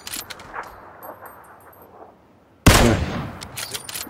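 A single loud shot cracks in a first-person shooter after a quiet stretch of faint ambience, followed by a decaying tail and a few softer pops.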